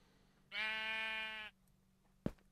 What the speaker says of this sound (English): naked orange sheep